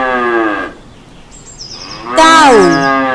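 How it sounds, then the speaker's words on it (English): A cow mooing loudly and close by in two drawn-out lowing calls, the second rising and then falling. A brief higher squeal is heard between them. "Cow."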